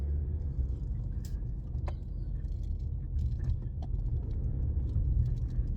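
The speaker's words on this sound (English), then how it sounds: "I got all these trucks cars, everything around me" Cars and trucks pass nearby as a continuous low road rumble, with faint clicks and knocks scattered over the steady traffic drone.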